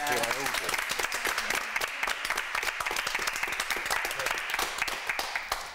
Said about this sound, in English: I think she deserves a big clap.